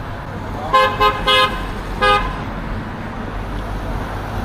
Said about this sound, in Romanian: Nu era pentru mine acel claxon.